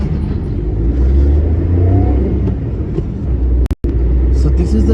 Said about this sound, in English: lorry passing